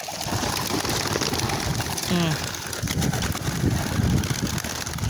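Racing pigeons cooing briefly amid a busy, noisy outdoor scene, with a steady wash of background din and people talking nearby.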